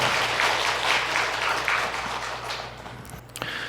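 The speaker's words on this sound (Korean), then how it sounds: "우리 하나님께 영광의 박수를 올려드리도록 하겠습니다." A church congregation claps together in sustained applause at a worship service, a dense, steady wash of hands that tapers slightly toward the end, with a few louder isolated claps at the close.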